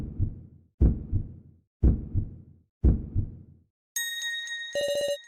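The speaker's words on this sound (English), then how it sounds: "can he hear her heartbeat going fast?" Heartbeat sound effect in the video game Your Turn to Die: four heavy, low, thumping double beats at a steady, quick pace, followed by a bright chiming electronic jingle.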